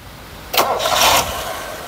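A Mitsubishi Lancer GL with an overheating history cranks and fires in one short burst, its engine catching and running briefly before easing back toward a rough, misfiring idle, fairly close.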